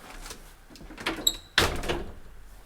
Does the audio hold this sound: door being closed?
yes